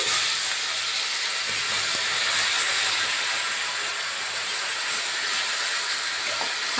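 Spice paste hits hot oil in a pan with a steady, bright sizzling hiss that stays loud and even throughout, with no talking over it.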